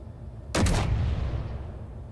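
A single sharp blast of weapon fire from a fighter ship in the Space Engineers video game, loud and close with a boomy low tail trailing off.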